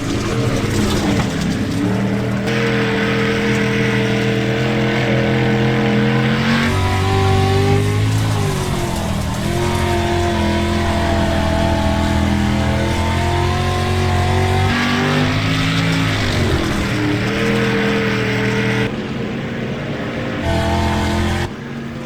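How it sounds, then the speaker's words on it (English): Race car engines roar continuously on a dirt track in the iRacing simulator, a loud, steady multi-car drone whose pitch rises and falls with throttle changes, with no talk over it. "Taylor James is in the second spot now. Caleb Curtis is trying to get that spot back."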